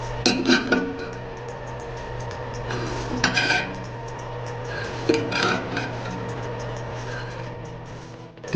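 Identification markings are stamped into a steel weld test plate for a CSA W47.1 welder qualification test: a few clusters of sharp, close metallic strikes spaced several seconds apart over a low steady hum.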